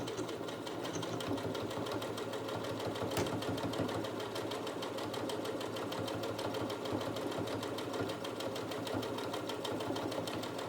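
A sewing machine runs steadily, stitching a waistband onto jogger fabric with a regular straight stitch, its fast rhythmic mechanical whir close and continuous throughout, with no talking.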